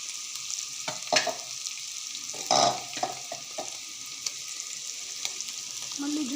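Cauliflower pieces sizzle steadily in a hot pan with chili powder as they brown, a constant close hiss broken by a few louder scrapes of stirring, with no voices.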